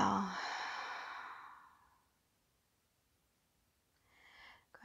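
During a yin yoga session, one long, slow breath out through the mouth fades over about two seconds, followed by a short pause and a faint, soft breath in close to the microphone.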